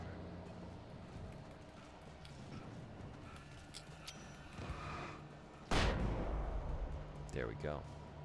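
A flashbang grenade going off in the Alan Wake video game, one sudden loud burst standing out from quiet background noise, followed by lingering ringing tones and someone talking.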